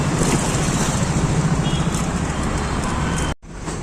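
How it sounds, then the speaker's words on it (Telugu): Road traffic on a busy street in Visakhapatnam: a steady, dense rumble of passing vehicles heard close by. It continues without a break, then cuts out abruptly near the end. "ట్రాఫిక్ ఉంది ముందర."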